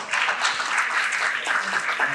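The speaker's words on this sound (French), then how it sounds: "je vous demande de l'applaudir" A conference audience at the Innov Provence meet-up on the sea economy applauds in a steady, dense wash of clapping that lasts about two seconds without a break.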